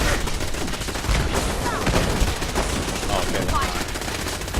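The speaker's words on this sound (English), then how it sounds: "why are they shooting at me?" Sustained gunfire in the Fallout 4 video game, dense rapid shots forming a loud continuous fusillade throughout, with a brief spoken word over it.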